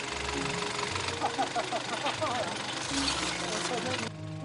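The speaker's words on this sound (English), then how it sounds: "Oh, listen to that winch." A truck's winch strains hard during a recovery on the Telegraph Track, a whining, labouring tone rising over a steady engine rumble for a few seconds before it cuts off abruptly.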